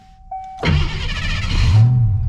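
Old car's engine catching and running after an electric whine, a loud, close, steady rumble that swells slightly toward the end.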